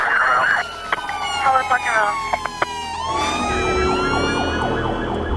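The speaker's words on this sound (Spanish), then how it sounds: "Ya ha salido una ambulancia para allá." An ambulance siren wails loudly, its rising and falling tones sweeping continuously over traffic noise, with a few sharp knocks early on.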